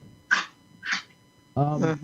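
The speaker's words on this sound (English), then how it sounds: "No, it's a dog." A dog gives two short, sharp barks, then a longer whining, howl-like yelp, close and distinct against a quiet background.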